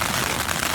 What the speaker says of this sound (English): I don't know if you can hear me above the noise of the rain on the outside of the tent.